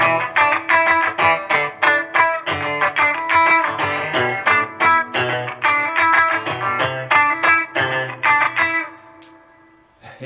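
Electric guitar played through a Fender Champion 40 amplifier with reverb, strummed in rhythmic, evenly pulsing chords with a slightly distorted tone, loud and alone, ending on a ringing final chord that fades out.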